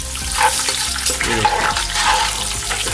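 Cumin and spices stirred in hot oil for chicken biryani, a steady, close, loud sizzle with wet, watery texture running the whole time and no talking.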